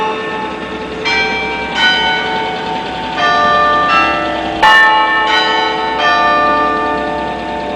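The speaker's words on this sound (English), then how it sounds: "That sounds like a real bell." A large church bell in Portugal rings in a series of ringing strikes, roughly one each second. Each strike is clear and resonant, and its long metallic tone overlaps the next, with no talking.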